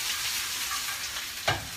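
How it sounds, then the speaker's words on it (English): A large pile of fresh greens cooks down in a hot pan, giving a steady broad sizzle with one brief scrape of stirring near the end, close and even, with no voices. "it seems like a ton of greens that I'm putting in here, but it's gonna cook down to kind of nothing"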